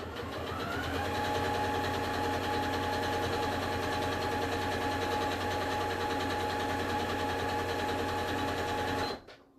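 A sewing machine runs steadily while stitching the second edge of scrap fabric, a continuous close whirring hum that stops abruptly near the end, with no talking.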